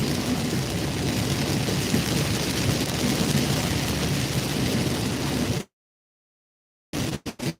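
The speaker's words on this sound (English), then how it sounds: "it is major rain coming down right now" Heavy rain pours down in a dense, steady roar during a wild Kentucky storm, loud and unbroken for several seconds before cutting to silence, then returning in a few short bursts at the end.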